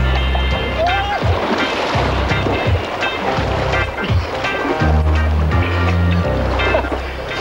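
Windsurfing at sea with a monofilm sail, loud rushing wind and waves with splashing water and buffeting noise throughout, along with some rumbling thuds.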